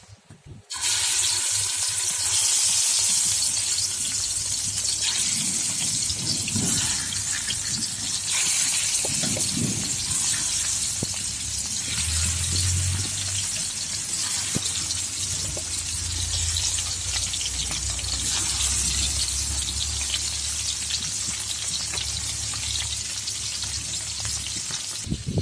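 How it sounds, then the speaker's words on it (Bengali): Pieces of rohu fish fry in hot oil in a frying pan, a dense steady crackle and sizzle that carries on loud and close for the whole stretch, with a few small clinks over it. "এখন মাছগুলোকে ভাজতে দেবো।"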